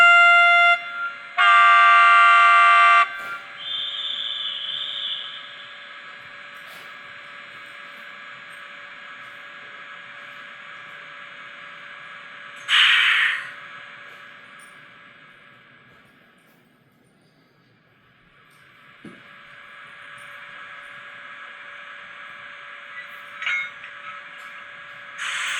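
The Roco 7520036 model locomotive's sound functions play loud horn toots at the start, a long steady electronic running hum that fades low midway and returns, and a few more short horn blasts near the end.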